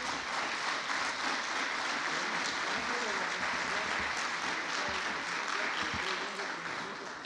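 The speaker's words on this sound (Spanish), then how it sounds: "nuevamente le damos un aplauso a nuestro ponente" Audience applause for a speaker after a conference talk by an FBI deputy attaché, a steady, dense round of clapping from a crowd that holds at even strength for about seven seconds.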